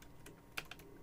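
Computer keyboard keys clack faintly in a quick run of several keystrokes, a bit distant and soft, with no voice over them.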